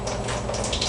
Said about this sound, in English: just a little bit of water on it.